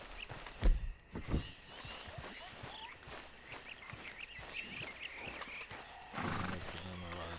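Horse in the video game Red Dead Redemption 2, set in a swamp, with a couple of hoof thuds early on, then soft movement under game music and ambience.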